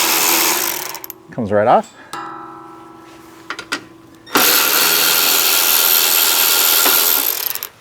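A 12mm ratchet wrench spins nuts off studs holding a module to a Toyota Tacoma frame, giving quick close metallic ratcheting clicks with a brief spoken remark and a loud stretch of broadband mechanical noise.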